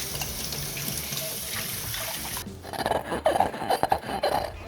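Greasy dishes scrubbed with a Scrub Daddy sponge under running water, a steady tap stream at first, then squeaky rubbing strokes in quick bursts close up.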